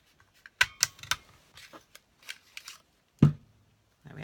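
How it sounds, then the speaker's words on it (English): An owl builder paper punch cuts black cardstock with sharp, close clicks and crunches in quick clusters, then a heavier thump, among light paper rustling. "Now to start off with the owl builder punch with the basic black, you need to cut out"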